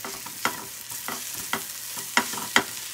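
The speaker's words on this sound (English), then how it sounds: "I'm going to put a little bit of mayonnaise here, and then I will add my eggs" Eggs frying in a pan with mayonnaise, with a soft sizzle under sharp, irregular scrapes and taps of a utensil against the pan, close by and without speech.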